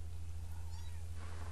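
A kitten in The Sims 3 video game gives a couple of short, high meows over a steady low electrical hum, faint and close, with no talk.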